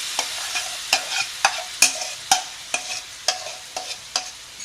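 Sauce for a stovetop pizza sizzles in a pan of olive oil while a spoon stirs it, giving a steady hiss broken by regular scraping strokes about twice a second.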